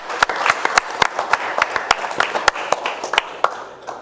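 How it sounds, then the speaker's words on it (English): Applause for city staff at a council meeting: a small group claps for about four seconds, sharp scattered claps close by, thinning out toward the end. "I think we need to give them a big round of applause"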